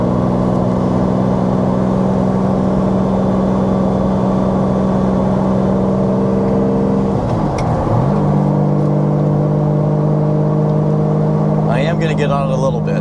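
A Lamborghini Diablo's V12 hums steadily at cruising speed from inside the car, with a brief dip and change in pitch partway through as the engine note shifts, then steady droning resumes.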